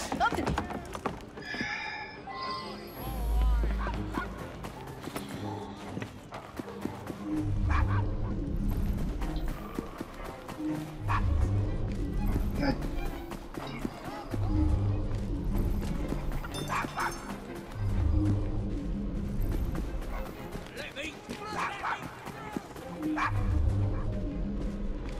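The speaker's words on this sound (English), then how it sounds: "No, quiet. Bad dog." A dog barks repeatedly in Assassin's Creed Syndicate in short bursts over clip-clopping horse hooves on a street, with people talking throughout.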